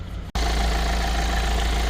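A Hyundai Staria's 2.2-litre diesel engine with 56,000 km on it idles steadily and loudly up close after a brief cutoff at the start, a constant low rumble with a mid-range clatter and no talk over it.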